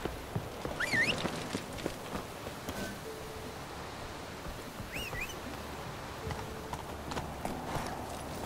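Hooves of Roach, the horse in The Witcher 3: Wild Hunt, clip-clop in a steady walking rhythm, soft and fairly close, over quiet outdoor ambience with a few faint bird chirps.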